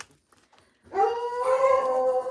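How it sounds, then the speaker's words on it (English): A dog breaks into a long, drawn-out bay or howl after a near-silent start, the sustained wavering cry close and clear with no talking over it. "I can tell you by her bark if it's Dave home"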